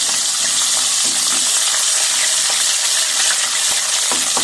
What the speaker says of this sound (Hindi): अदरक लहसुन हमारा फ्राई हो गया।